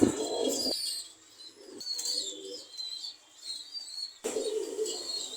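Pigeons in a pigeon loft in Khulna, Bangladesh, give soft, low coos in three short bursts separated by quieter gaps, with faint chirps in the background and no talking.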